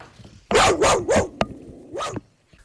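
A dog barks alone and close by, a quick run of three sharp barks followed by one longer, drawn-out bark, with silence around them.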